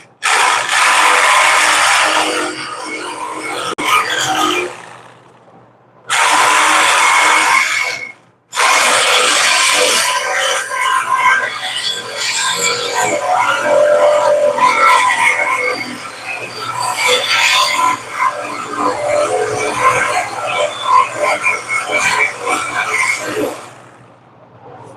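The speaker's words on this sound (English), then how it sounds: "I'm cutting through a big chunk of weld" A power tool blade cuts through a thick chunk of weld on a vehicle exhaust, a loud, harsh, rasping grind that runs almost continuously, with two short breaks early on, close up and without speech.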